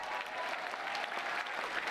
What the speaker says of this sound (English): if we can please give her a resounding applause